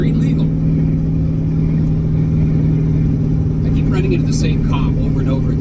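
Supercharged 600 HP Mazda Miata engine running with a steady, loud low-pitched drone and hum, constant throughout, with a voice talking over it.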